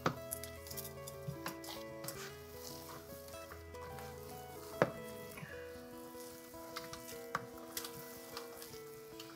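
Gloved hands working ground beef and sausage together into a meatloaf mixture, a close, steady wet squishing and patting with a few sharper clicks of a bowl, over faint background hum.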